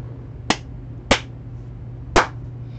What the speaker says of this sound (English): I got a clap to do a sound sync